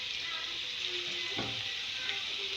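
Empanada filling browns in a frying pan with a steady, close sizzle and crackle, joined by a brief stirring scrape midway.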